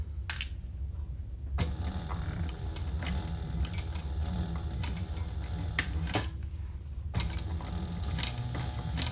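A sewing machine stitches a double-sided leather project, its mechanical clatter running steadily up close, with sharp clicks and knocks from the work at irregular intervals and no voices.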